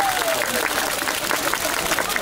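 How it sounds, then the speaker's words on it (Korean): Crowd applause fills a baseball stadium during a Lotte cheer session at Daegu Samsung Lions Park, steady dense clapping and crowd noise throughout, loud and continuous with a faint voice rising underneath. "유광남 선수에게도 힘찬 응원의 박수를 부탁드리겠습니다"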